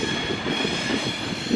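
Class 390 train passing through Crewe station on a London Euston to Edinburgh service, a steady rumbling roar with a high whine and faint wheel clatter, continuous and fairly close.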